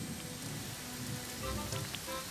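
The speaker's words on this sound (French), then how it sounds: "Cela fait des jours et des jours qu'il pleut." Rain falls steadily on surfaces, a soft, continuous hiss with scattered patter of drops, faint and unbroken throughout.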